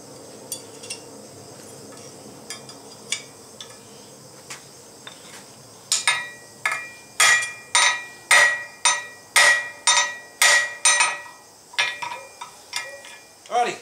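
A hammer sets a hot rivet on forged bolt jaw tongs with sharp metallic strikes, sparse and light at first, then a fast, loud run of ringing blows close by, tapering off at the end.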